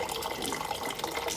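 Tap water running into a sink to rinse an eye, a steady close splashing stream heard briefly and alone.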